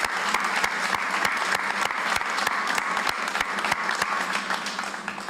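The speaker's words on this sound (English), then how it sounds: "Please give him a thunderous round of applause" Loud, steady applause from a crowd at a St. Louis-area leaders' briefing on cooling resources during dangerous heat, a dense rush of claps running unbroken for several seconds.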